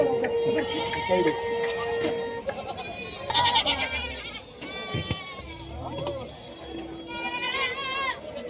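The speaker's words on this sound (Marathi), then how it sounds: "सगळे बोकड आहेत" Goats and billy goats bleating at the Pathardi livestock market in Maharashtra, several overlapping calls near and far throughout, mixed with crowd noise and people talking.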